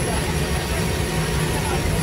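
Engines of a Hercules military transport aircraft drone steadily in flight, heard from inside the cabin as a loud, unbroken roar.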